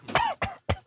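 A person coughs three times in quick succession, loud and close, the first cough longer and rougher than the two short hacks after it.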